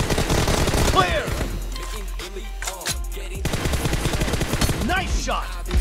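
Rapid bursts of gunfire from an M24-armed team deathmatch round in a shooting video game, loud and dense across the clip with a brief lull in the middle, while a voice speaks over it.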